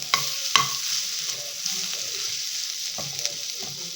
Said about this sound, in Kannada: ಈಗ ಎರಡು ನಿಮಿಷ ಫ್ರೈ ಆಗಿದೆ ಇದು